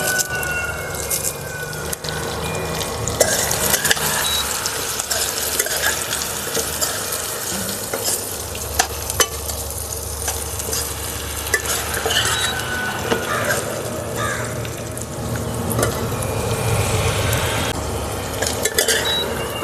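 Chicken fry with curry leaves is stirred in a pan, producing a continuous low sizzle with repeated scraping and clinks of a utensil against the pan, steady and close, with no talking.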